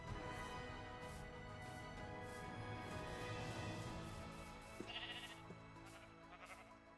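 Sheep in the Minecraft video game bleat a few times over continuous in-game background music and ambience, moderately loud with no speech.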